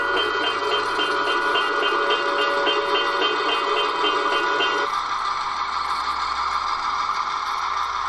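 A model train rolls into an active railroad crossing on a museum layout, with the electronic crossing bell ringing in a steady repeating pattern over a continuous mechanical hum; partway through the bell cuts out and the hum continues alone.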